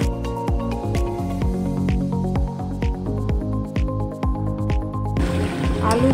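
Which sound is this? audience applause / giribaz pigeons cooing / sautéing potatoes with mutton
sautéing potatoes with mutton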